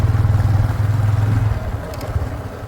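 A motorbike rides along an embankment road beside the Ganges on a breezy morning, its engine chugging in a steady low pulse up close with wind rushing past, easing slightly toward the end.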